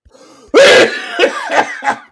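A loud cough followed by a few shorter throat-clearing hacks, close up, with quiet murmuring before it.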